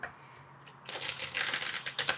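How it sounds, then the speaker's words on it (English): Tarot cards being shuffled by hand, a quick crisp riffling flutter of card edges following a moment of quiet, close and fairly soft. "I've shuffled, so I'm just going to shuffle one more time"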